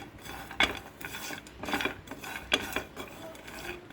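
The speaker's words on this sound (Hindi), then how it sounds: "ये पैन चढ़ा ली हूँ मैं और इसको रोस्टेड करूँगी।" Whole spices roasting in a pan on the stove, with a few quiet metallic scrapes and clinks of a spoon against the pan, sparse and faint, with no talking.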